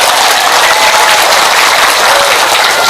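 Sustained applause from a crowd gathered at a Ramadan religious study gathering in Magelang, Central Java, steady, loud and dense with clapping for the full stretch, no voices rising above it.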